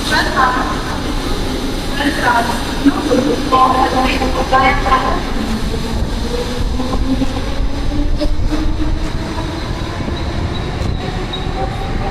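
Loud onboard roar of a Mumbai local commuter train in motion, with rattling, clanking and a rising wheel whine, heard close up under a person speaking.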